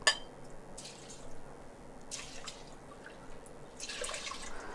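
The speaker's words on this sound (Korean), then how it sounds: "여기다 이제 물을 넣을 텐데요. 물을 3컵 넣을 거예요." Water is poured into a pot of drained, soaked rice, giving faint splashes and a few brief dripping bursts over a quiet room background, with no one talking.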